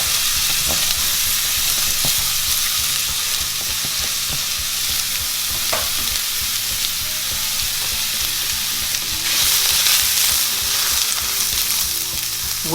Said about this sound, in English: We're just going to let the onion fry a little bit